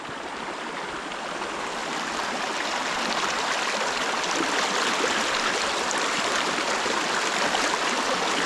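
A stream flows over rocks outdoors, a steady broadband rush of water that swells slightly after the first couple of seconds and stays constant, close and unbroken, with no voices.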